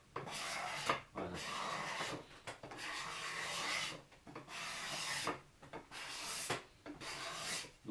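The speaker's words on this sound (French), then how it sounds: "je préfère pousser le racloir" Cabinet scraper pushed across a wooden surface in repeated long rasping strokes, close and loud, each pass separated by brief pauses, with no talking.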